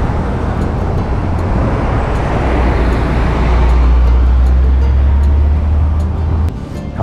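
Heavy car traffic at a busy Hamamatsu crossroads: a constant loud road roar, swelling as a large vehicle's deep engine rumble passes close by, then easing off.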